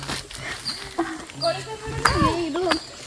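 Chickens cluck and squawk in short, scattered bursts nearby, mixed with background voices and rustling.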